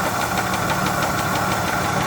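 A 1974 Nova engine running with a rapid, even ticking over its idle, the regular clicks repeating steadily and close by, with no talking.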